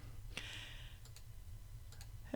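A computer mouse gives a few soft, close clicks, spaced apart in a quiet room with a low hum underneath.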